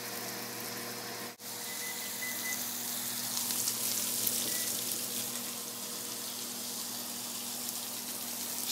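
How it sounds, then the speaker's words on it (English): Steaks sear in a hot oiled pan, giving a steady, close sizzle and crackle that holds evenly throughout, with no talk. "Steaks are on, being seared nicely"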